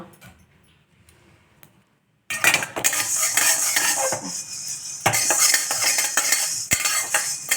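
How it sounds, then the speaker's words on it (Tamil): Spices dry roasting in a pan for rasam powder, a few quiet taps and then a sudden busy run of metal spoon stirring and scraping against the pan, loud and close. "எண்ணெய் தேவையில்லை, இதுக்கு ட்ரை ரோஸ்ட் பண்ணிக்கலாம்"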